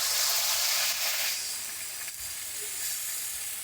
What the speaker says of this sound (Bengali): আমি এটাতে সামান্য পরিমাণে জল দেবো।